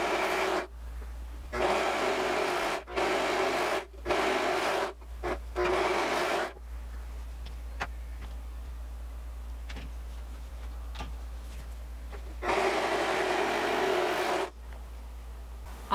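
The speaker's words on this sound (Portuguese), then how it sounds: "Aqui eu tô usando o meu Ultralock da Singer." Singer Ultralock overlock machine sewing the side seams of a child's dress, running in several short bursts and then one longer stretch, close and steady with a mechanical whir and quiet gaps between runs.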